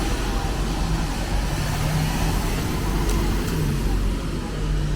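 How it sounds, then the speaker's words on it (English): A City Sightseeing Tour Toronto hop-on hop-off bus rolls along a busy downtown street, its steady low engine rumble blending into continuous traffic noise at moderate volume throughout, with no break. "Here's the City Sightseeing Tour Toronto bus."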